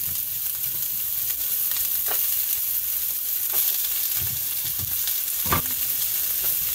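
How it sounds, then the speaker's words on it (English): Onions and green peppers frying in olive oil give a continuous close sizzle and crackle, with occasional louder pops and stirring scrapes and no voices. "onions caramelize a little bit, along with our green peppers"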